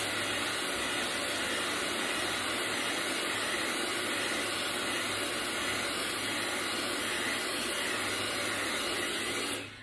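A hair dryer blows steadily while a section of hair is wound on a large brush and dried, a constant loud whooshing roar that runs unbroken and cuts off at the very end.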